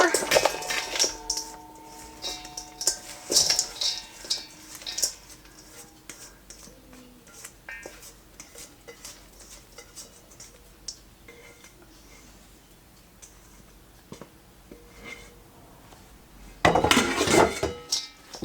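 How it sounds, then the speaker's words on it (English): Fruit for homemade jam is moved from a bowl into a bigger container, with bursts of clinking and scraping dishes and utensils at the start and end and quieter handling between, under occasional talk. "So I'm going to have to transfer it here to another container"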